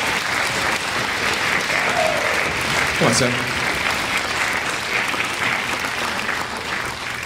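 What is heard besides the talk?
audience applause at a school concert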